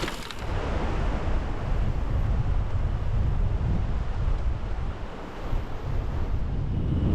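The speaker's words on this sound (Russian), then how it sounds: "Ветер, конечно, очень сильный поднялся." Strong, gusty wind on the Chuysky Trakt highway in Altai roaring across the microphone in a constant heavy rumble, broken by a brief dip, with no voices.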